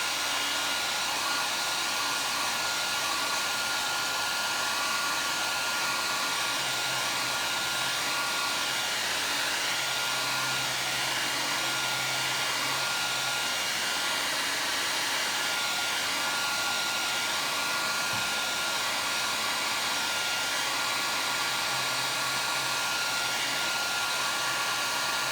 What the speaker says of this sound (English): I'm going to dry that with my hair dryer.